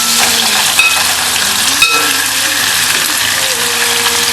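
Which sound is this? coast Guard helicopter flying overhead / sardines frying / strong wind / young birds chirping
sardines frying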